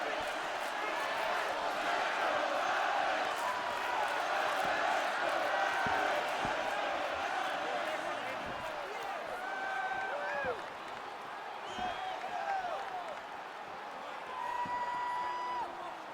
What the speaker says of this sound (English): you can sort of feel an uptick in terms of the crowd energy